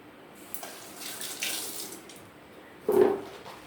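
A kitchen tap runs while someone washes their hands, a close steady stream of water with a louder splash near the end.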